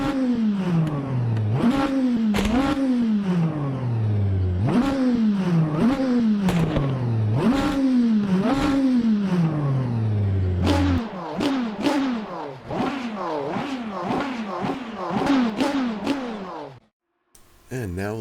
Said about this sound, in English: let's have a quick look at the outside of the car and have a listen to it revving